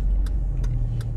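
A 2005 Chevrolet Silverado pickup truck engine hums steadily from inside the cab as it pulls away on an early-morning road, a low continuous drone with faint ticking clicks on top and no talking.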